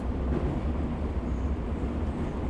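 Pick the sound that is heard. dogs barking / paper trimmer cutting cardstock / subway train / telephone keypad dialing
subway train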